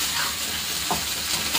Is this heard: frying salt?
yes